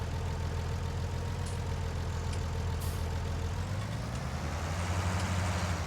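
A little Massey tractor engine in Farming Simulator 19 runs at a steady, low idle-like drone throughout, close and unchanging, with no voices.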